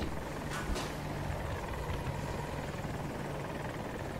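An enemy helicopter in Battlefield 2042 thunders close by with a constant, loud rotor drone, a brief sharper burst standing out near the start.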